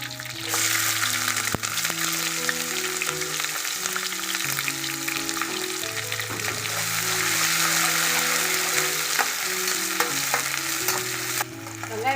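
Green chilli and three onions fry and sizzle steadily in a pan for a Kaadai (quail) gravy, a continuous close hiss with occasional stirring and a soft melody playing underneath.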